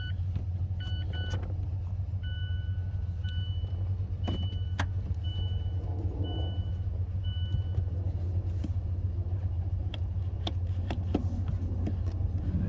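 A $300 auction car's engine runs at a steady idle, a low, constant rumble close by, with a few light clicks and rattles over it and no talk.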